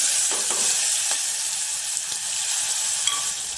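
Tomatoes, a pinch of asafoetida and turmeric sizzling in hot oil for a Kathiyawadi green pigeon pea curry, a loud continuous close-up hiss with a few faint knocks, no voices.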